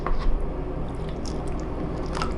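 Water is trickled little by little into a clay mosaic mix, giving a close, wet squishing and dribbling sound with faint clicks, steady for a couple of seconds.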